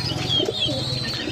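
Young pigeons in a loft coo softly and steadily at close range, with low, pulsing throaty notes and faint chirps over a quiet background.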